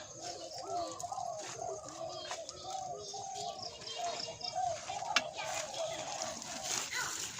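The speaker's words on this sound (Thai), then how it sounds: "ที่สวนที่บ้านจะมีแต่เสียงนก" Birds call in a home vegetable garden in Thailand. A pigeon coos repeatedly in a soft, steady rhythm while other birds chirp faintly around it, with distant voices in the background.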